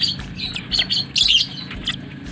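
Lovebird chicks of the biola variety chirp and squawk in thin, high, rapid bursts at close range, with handling noise around them and no voices.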